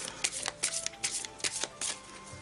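A deck of cards is shuffled by hand close up, sending a rapid series of riffling bursts in an uneven rhythm with no talking.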